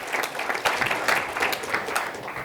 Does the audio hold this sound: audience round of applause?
yes